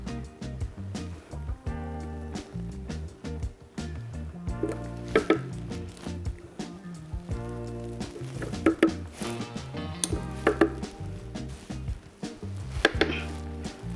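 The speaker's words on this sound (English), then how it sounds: "We're gonna spoon in our avocado." Ripe avocado is spooned into a blender in a series of soft, irregular squishy scoops and light taps of the spoon against the container, fairly quiet and close, with no talking.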